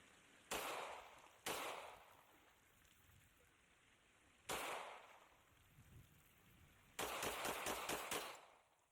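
A handheld firearm with noticeable recoil fires several separate loud shots, then a rapid burst of about six shots near the end, each crack sharp and close with quiet handling noise in between.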